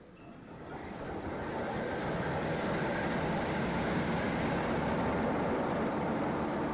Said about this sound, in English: the 47 is ready to leave the main shed